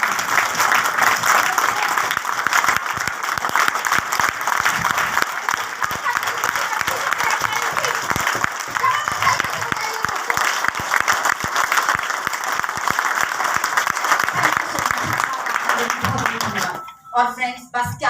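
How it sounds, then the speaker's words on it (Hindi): A stage programme audience at a Modicare event applauds with sustained, lively clapping for most of the stretch, then it dies away and a speaker's voice takes over at the end. "तालियां बजा लीजिए।"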